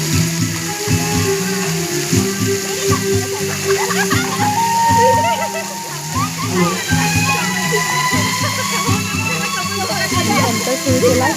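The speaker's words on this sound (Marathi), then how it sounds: "यानंतर आम्ही गेलो स्विमिंग पूलमध्ये आणि स्विमिंग पूलची तर मजा वेगळीच." Water splashes and sloshes steadily as people play in a swimming pool, with children's voices and other chatter mixed in throughout.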